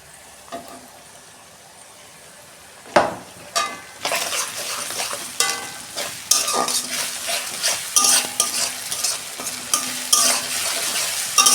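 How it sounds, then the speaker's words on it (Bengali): Onion frying in a pan with ginger-garlic paste, for an egg dish: a steady hiss of sizzling oil with repeated spoon scrapes and stirs, quiet at first and then building into continuous close-up frying. "2 মিনিট আমি পেঁয়াজটা ভেজে নিই"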